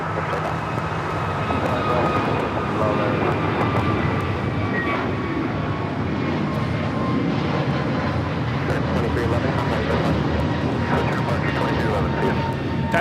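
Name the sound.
American Airlines Airbus A321neo taking off at LAX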